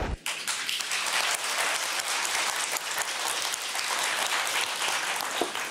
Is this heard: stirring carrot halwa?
no